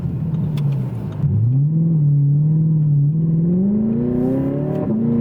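An Audi R8's engine pulls hard under acceleration with paddle shifts in manual mode, a loud close-up roar rising steadily in pitch after a brief drop at a gear change.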